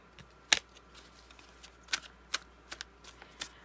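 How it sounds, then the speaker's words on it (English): Tarot cards are shuffled by hand in a quiet room, giving soft riffling snaps and sharp paper flicks at irregular intervals, close and fairly faint, with no talking. "Just going to shuffle a few more times and then cut."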